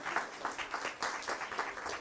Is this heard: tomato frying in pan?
no